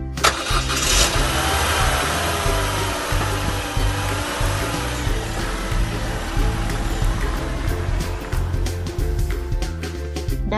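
A car and a motorbike run their engines, a steady loud mechanical rumble with a sharp burst near the start and a continuous churning drone underneath, no voices.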